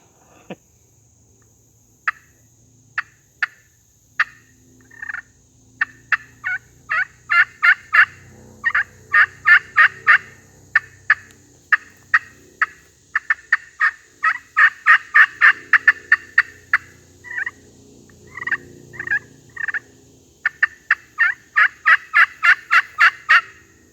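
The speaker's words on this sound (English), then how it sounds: "Something about that turkey yelp that gets my blood pumping." A hand-played pot turkey call scratched with a striker gives long runs of sharp, raspy yelps in quick rhythmic bursts, loud and close over near silence, with soft handling noise between series.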